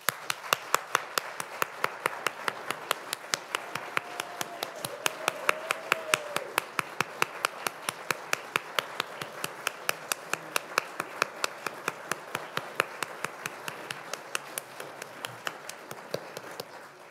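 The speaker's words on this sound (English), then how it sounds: "Could we give them another round of applause?" Steady, evenly spaced clapping from a church congregation at Sunday worship rings out for the whole stretch, with a faint whistling tone drifting through partway along.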